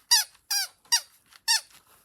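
A funny novelty item gives four clear, evenly spaced squeaks, each a short, bright, falling chirp, close and alone with no talk.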